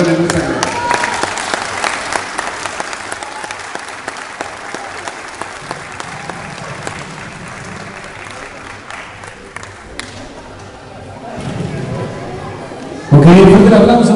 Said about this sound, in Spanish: vamos a despedir a nuestras autoridades con un fuerte aplauso